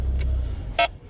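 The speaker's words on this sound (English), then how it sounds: "That was a radar detector," Electronic beeps from a radar detector inside a 2020 Mini Countryman S: a faint chirp followed by a louder, brief tonal beep over the steady low rumble of the car in motion.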